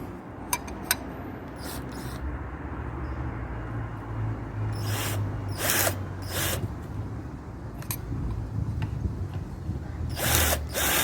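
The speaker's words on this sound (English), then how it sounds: "So I'll give it a go with the step drill first." A step drill with a hex shaft bores holes in a metal front panel, grinding steadily for several seconds with sharp clicks and squeals throughout.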